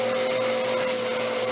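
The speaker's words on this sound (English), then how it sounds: "They say all dogs are scared of vacuums." A vacuum cleaner runs steadily and loudly nearby, a constant motor whine with a high tonal hum and no break.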